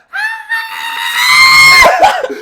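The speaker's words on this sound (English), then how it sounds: "but this will be a scream, basically." A loud human scream belted straight into a microphone, a single sustained high-pitched cry of about two seconds that cracks and breaks up near the end, ending in clipped, harsh bursts.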